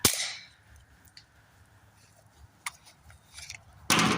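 A rifle fitted with an AAC Element 3 suppressor fires subsonic Remington rounds outdoors: a sharp suppressed report opens the clip, a second shot lands at the end, and faint clicks and small impacts fill the quiet gap.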